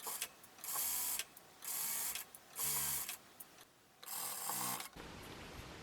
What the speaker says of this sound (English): now I'm sewing my side seams on the blouse